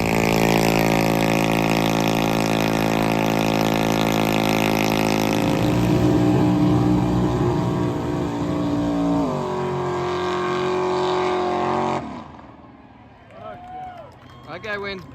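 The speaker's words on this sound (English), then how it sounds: "I decided to do a burnout contest" Loud, sustained engine roar from a vehicle doing a burnout at a drag show event, holding steady for about twelve seconds before cutting off abruptly, leaving faint crowd noise and voices.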